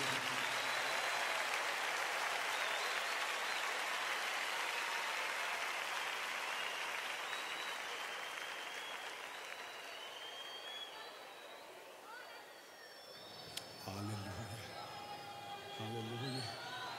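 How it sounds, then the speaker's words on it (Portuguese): Congregation at a gospel worship service clapping and cheering in a sustained wave that gradually fades, followed by a voice calling out and music resuming. "Dê um aplauso ao nome do Senhor Jesus,"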